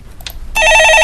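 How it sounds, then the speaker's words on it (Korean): A telephone rings loudly and steadily for about half a second at the end, with a clear electronic ringing tone and no talk over it, after quieter background noise. "전화 받아보겠습니다"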